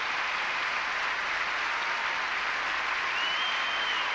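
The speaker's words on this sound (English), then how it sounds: "great applause from around the building" Dense, steady applause fills a large ice-skating arena as the audience responds to Torvill and Dean's performance, a continuous roar of many hands with no break.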